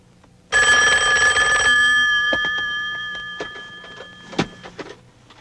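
A telephone bell rings loudly for about a second with a steady electronic trill, then is cut off, leaving faint background clatter and a brief knock; the scene is a Filipino action film.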